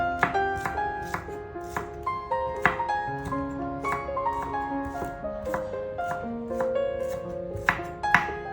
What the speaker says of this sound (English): Chop green onion and separate white onion and green onion.